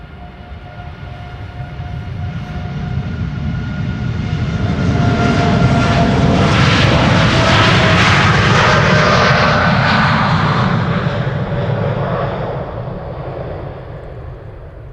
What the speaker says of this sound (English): TUI spooling up, going to Montego Bay